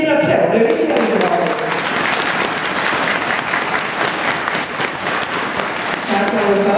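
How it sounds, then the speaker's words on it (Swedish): Loud, sustained audience applause at a police mounted unit's open-house horse show, filling the whole stretch with dense clapping, while a voice talks briefly at the start and end. "En liten applåd, det är viktigt"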